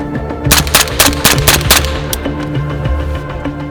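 Rapid close gunshots from 300 BLK rifles, a burst of about six sharp cracks in quick succession followed by a few sparser shots, loud and near with no talking.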